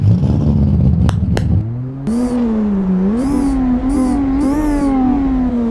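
A Toyota Supra in Euro Truck Simulator 2 starts up with a brief cranking clatter, then its engine settles into a loud idle and rises through several throttle revs, close and alone.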